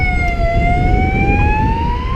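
Ambulance siren wailing in a street, its steady rising tone loud and close above constant traffic rumble, pitch climbing slowly as it passes.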